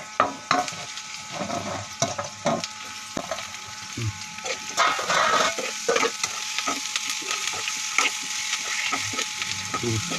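Drumsticks and onions fry in a pan under a constant sizzle, broken by repeated scraping and knocking strokes of a wooden spatula, close and fairly loud.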